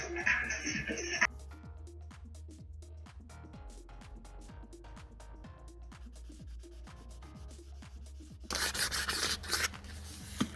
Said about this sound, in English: Helped us sandpaper down to a really finely smooth surface, ready for his final silver paint